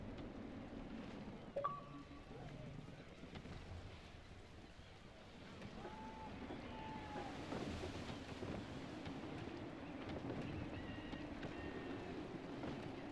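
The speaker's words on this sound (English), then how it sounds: "Wind looks to be shifting. Stay alert, Connor. Gusty winds can be difficult to manage." Gusty wind at sea in the video game Assassin's Creed III rushes steadily beneath faint creaks and tonal game sounds, with a low, rolling roar of water and air that swells slightly midway.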